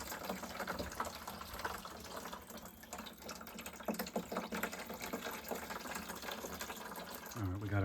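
Water drains from an opened boiler relief valve in a steady, low-level splashing gush with a rough, trickling texture, and a low thump sounds near the end.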